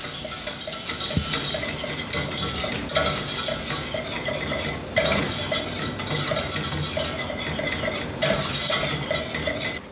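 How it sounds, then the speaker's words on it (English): Butter and flour being stirred together in a pan for gravy, a utensil scraping and clinking against the pan in steady repeated strokes, with a soft background sizzle and no voices. "we're going to stir it up."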